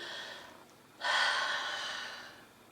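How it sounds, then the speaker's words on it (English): A person takes a single deep breath as a demonstration, a loud, airy inhale that starts abruptly and lasts about a second and a half, then tapers off, with no talking. "one of those that's really easy is just learning to take a deep breath"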